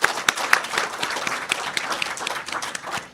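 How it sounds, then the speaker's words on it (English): An audience at an awards recognition program applauds, many hands clapping in a lively, uneven patter with a few sharp louder claps near the start, continuing steadily without talk. "Could we please give a huge round of applause for Abraham and, of course, everyone who donated their time today."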